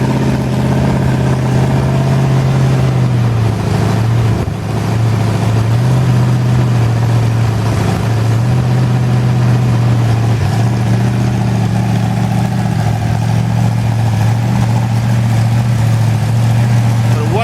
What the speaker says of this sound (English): I've got to keep these revs up. Let that camshaft run in.